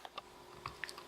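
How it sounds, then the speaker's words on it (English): Faint, close chewing from a pet named Otis: a handful of soft wet crunches and clicks spaced irregularly over a quiet background. "In the event you hear any chewing noises, Otis,"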